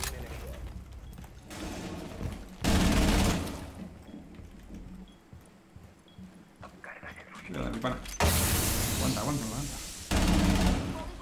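Gunfire bursts in the video game Rainbow Six Siege, loud and dense, arriving in several separate stretches under ongoing game noise, with people talking over it.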